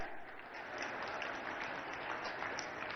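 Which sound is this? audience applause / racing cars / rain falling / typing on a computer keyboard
audience applause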